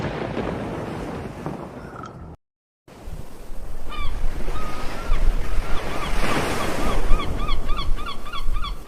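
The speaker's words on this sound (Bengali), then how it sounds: "হঠাৎ জাহাজের পানির ঢেউ তীব্র হয়ে ওঠে।" Ocean waves surge and crash around a ship at sea in a dark horror tale: a loud, continuous roar of surf and wind, briefly cut to silence, then returning with repeated bird-like honking cries over the swell.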